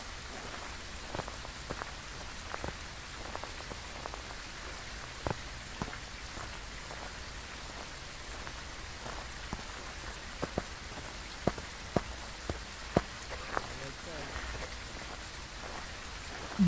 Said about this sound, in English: The sound of rain really making me sleepy,